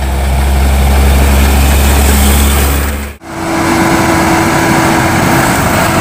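A Hino truck overtakes on the road: a loud, close engine drone builds steadily, cuts off sharply in a brief pass, then returns as a lower steady rumble with a sustained whine.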